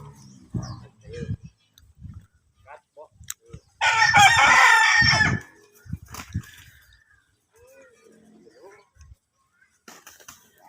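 A fighting cock at a rural home in Laos lets out one loud, close crow lasting over a second, with short bursts of talk and scattered clucks before and after.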